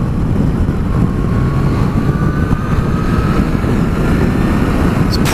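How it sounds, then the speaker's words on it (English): A 2019 Yamaha FJR 1300 AE sports touring motorcycle accelerates hard, with a steady, loud engine roar and a slowly rising tone that carries through the whole run, heard up close with no one talking. "It's properly quick, this bike."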